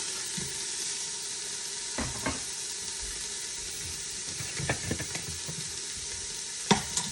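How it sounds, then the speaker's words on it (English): Pre-cooked Canadian bacon crisps in a pot, giving a steady close sizzle broken by a few clicks and scrapes of a utensil moving the meat. "So I'm just going to crisp that up in my pot here for a second."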